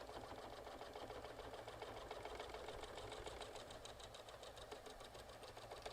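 A Janome high-performance sewing machine stitches steadily through quilt layers, a continuous close, rapid mechanical whirr with fine rhythmic ticking holding even loudness for the whole stretch.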